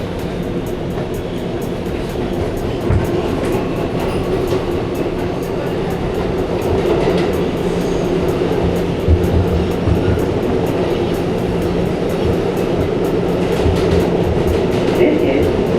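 A New York City subway train rumbles and clatters steadily from inside a car, with rhythmic wheel clicks and occasional thumps over a low, continuous roar.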